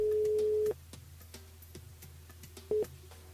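A telephone call tone sounds while a radio show host rings a listener: one long steady tone, then a short second beep after a quiet stretch, with faint background noise between.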